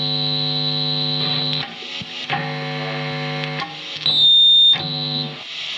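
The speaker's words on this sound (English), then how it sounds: "Okay, so quite a lot of noise. The bridge pickup has pickup squeal as well." Hum and buzz from an SX Stratocaster's pickups driven through an SLOD overdrive, a steady loud harmonic drone shifting as controls change, with a high whistling squeal near the end, no talk.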